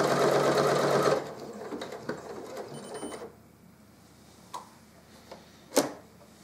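A sewing machine stitches a folded-over fabric channel for a dance change tent, running in a close, steady mechanical hum for about a second, slowing into a few ticks, then falling quiet apart from scattered clicks and a final knock.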